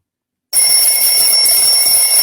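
A steady, bright ringing like a bell or alarm clock begins abruptly after a brief silence and holds at an even, loud level with sustained high tones.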